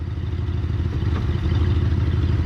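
A 1963 Ford Fairlane 500 with its 260 V8 idling as it is shifted into gear, a steady low rumbling engine note with a faint clunk midway, close and unbroken with no speech.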